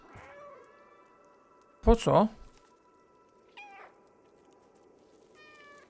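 Cat meows from the video game Stray, several short separate cries with a louder one near the middle and fainter ones later, over a quiet background with a brief voice at the start.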